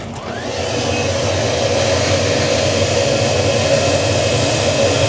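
A coin-operated car wash carpet injector-extractor runs continuously, a loud, steady vacuum roar with a whining hum that builds in the first second and then holds.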